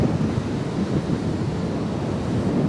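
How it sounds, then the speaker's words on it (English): Strong wind buffeting the microphone with ocean surf rumbling along the Rockaway Beach boardwalk in New York City, a steady loud roar with no voices. "This is very windy."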